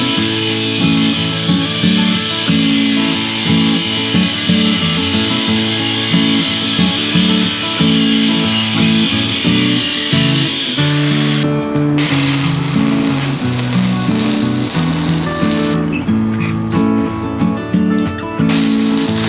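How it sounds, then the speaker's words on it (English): A power tool cuts off a broken bolt on a farm round baler, making a loud, steady, close whine and grinding drone that runs without pause, with harsher rasping bursts toward the end. "And so we're just going to cut off the broken one, insert that, and it should work just fine."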